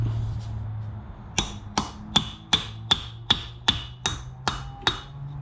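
Ten sharp metallic hammer strikes on a drive pin, replacing a Mustang GT rear wheel hub, land in a steady rhythm after a quiet moment, each ringing briefly, close by with no talking.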